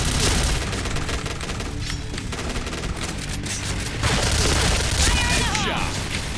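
Dense rapid gunfire and loud explosion booms in the Point Blank game firefight, with a grenade blast among continuous shooting, close and intense, with a voice talking over it.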